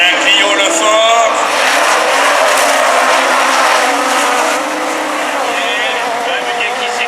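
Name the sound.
Super 1600 rallycross race cars racing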